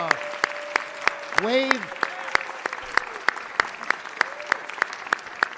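A city council meeting audience applauds for vocalist Frida Payne with crisp, evenly spaced claps running throughout, while a voice briefly speaks over them.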